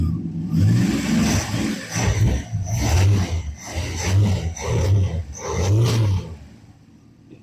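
A Dodge Dart's engine idles and burbles close up, its low rumble pulsing in steady surges with a few brief dips, loud and alone until it quiets near the end.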